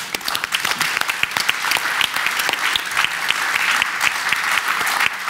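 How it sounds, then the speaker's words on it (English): A large audience at a talk applauds in sustained, dense clapping, steady and loud throughout with no voices breaking through. "Can I get a big applause for Mara, for Roger, and for Dr. Kendi?"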